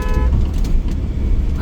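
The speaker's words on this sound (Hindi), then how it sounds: "मैंने हॉर्न दिया।" Car horn sounding briefly while overtaking a motorbike on the road, a short toot near the start over loud engine and road noise.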